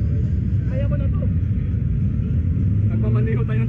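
A motorized tricycle engine drones steadily while driving, a loud continuous low rumble close up that runs the whole time, with faint higher tones above it.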